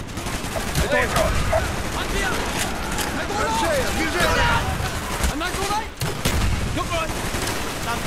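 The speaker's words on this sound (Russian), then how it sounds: "Вот это выстрел!" Rapid gunfire crackles throughout a Vietnam-era battle in the video game Call of Duty Black Ops, with bursts of shots and sharp booms layered under excited shouting voices.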